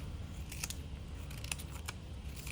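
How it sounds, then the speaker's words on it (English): Several crisp snips of scissors cutting paper into small pieces, irregularly spaced, over a steady low background hum. "take my scissors and I'm gonna start cutting"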